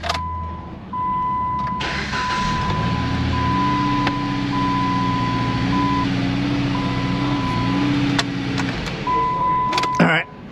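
A car engine idles roughly after a PCM replacement, with a low uneven rumble that rises and holds, a misfiring stumble, a steady high tone over it, scattered clicks, and people talking nearby.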